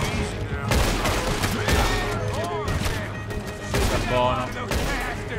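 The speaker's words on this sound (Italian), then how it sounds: "Porca miseria, come sparano questi." Enemies firing guns in Red Dead Redemption 2, repeated loud bursts of gunfire in rapid volleys throughout, with someone speaking Italian over the shots.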